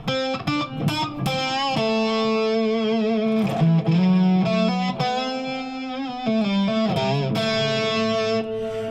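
An electric guitar played through a reverb pedal set with pre-delay, giving an effect between delay and reverb: sustained chords and single notes ring out with lingering trails, loud and close, with no voice.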